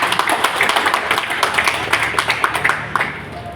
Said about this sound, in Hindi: शानदार तालियां होनी चाहिए।